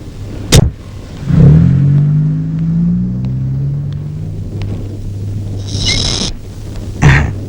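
A car engine rumbles steadily as the vehicle drives up and comes to a stop, with a couple of sharp knocks or door-like thumps before and after, loud and close.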